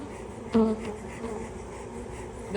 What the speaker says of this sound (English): My guess is this top super is another box full of bees.